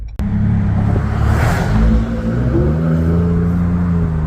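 A Ford Bronco engine rumbles with a throaty aftermarket-style exhaust note, a steady deep drone that swells as it revs briefly, then settles into a low, close idle.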